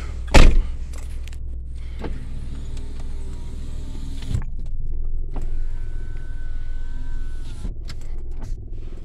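Power windows on a 2006 Saturn Vue run up and down with a thin electric motor whine in several separate passes, a sharp thump near the start, over a low car-interior rumble with no talking.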